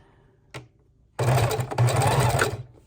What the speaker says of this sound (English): For this, I think I'm just going to do a simple straight stitch.